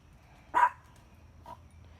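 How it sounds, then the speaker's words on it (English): A dog named Jackson gives one sharp bark in a garden, followed by a softer second yip about a second later, fairly quiet against a calm background. "Jackson, stop barking."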